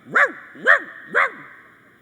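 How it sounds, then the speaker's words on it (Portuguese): Dog barking by a roadside, three loud, evenly spaced barks about half a second apart, close and clear against a quiet background. "ou você fica dando atenção para os cachorros que latem"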